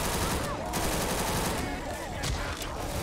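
Gunfire in the zombie shooter Left 4 Dead 2, with repeated shots crackling over a dense, steady bed of game noise and a voice talking throughout.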